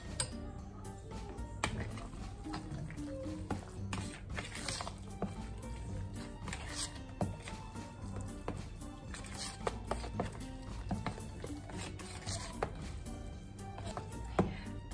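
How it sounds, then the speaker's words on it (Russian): Zucchini boat filling with coriander mixed in a bowl, heard as a long run of irregular taps, clicks and scrapes of a utensil against the bowl, quiet and close with no talking. "Все хорошенечко перемешиваем."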